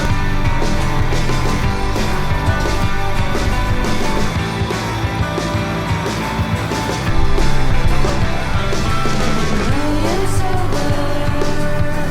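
A car driving along a road on a road trip toward downtown Ottawa, a loud, steady engine and road roar that holds throughout with a brief surge partway through, no talking.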